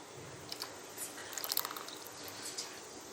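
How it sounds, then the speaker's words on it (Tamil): Water poured into tomato chutney in a pan gives soft, close splashing and dripping, quiet and steady, with a slightly busier trickle in the middle. "இதில் நமக்கு தேவையான அளவுக்கு தண்ணி ஊற்றிக்கலாம்."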